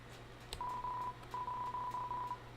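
A landline telephone in the video game Deltarune dials, giving steady tone beeps in two runs of sustained pitched tones over a low background hum, with no talking.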